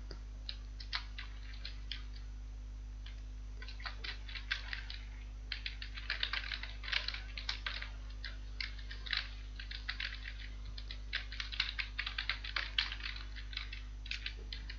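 Code being typed on a computer keyboard during a C programming session, quiet clicky keystrokes in irregular bursts and flurries over a low steady hum, with no talking.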